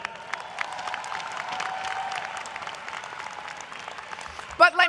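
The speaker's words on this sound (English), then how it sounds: "Let's celebrate and give a round of applause for our faculty." A commencement ceremony crowd applauds the faculty with steady, moderately distant clapping and some cheering. A voice rises briefly near the end.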